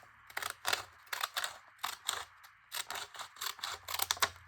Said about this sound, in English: And then I'm going to cut just a width off the bottom.